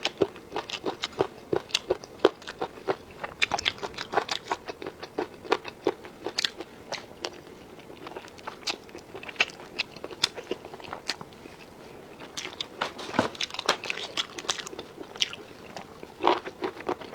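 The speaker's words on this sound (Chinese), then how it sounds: "吃饭之前吃蕨菜，蕨菜。" Someone eats bracken fern at a mukbang meal, with rapid crisp biting and crunchy chewing bursts repeating close up throughout, no talking.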